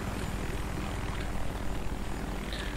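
A helicopter in the video game Battlefield 3 thrums with a steady, rapid rotor chop and engine drone, close and continuous without any talk.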